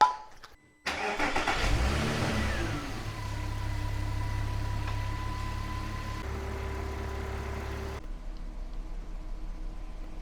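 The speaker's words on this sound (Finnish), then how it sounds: "Sitten vaan moottori käyntiin ja piti antaa käydä vartti parikymmentä minuuttia" A Porsche engine cranks and fires after a brief pause, revs up, then settles into a steady, droning idle with low humming tones that shift slightly before cutting back toward the end.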